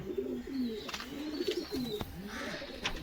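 Pigeons in a loft coo in repeated low, throaty rolls, close and clear, with a few faint chirps in the background.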